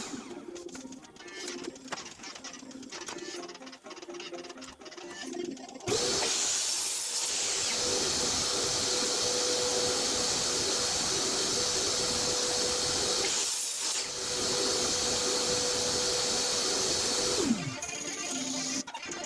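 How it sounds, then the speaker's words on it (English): Power saw cutting lumber for a table saw extension build, a loud sustained whining buzz running for about eleven seconds after a stretch of quieter workshop clatter, then winding down abruptly. "So let me pull out that saw and start cutting."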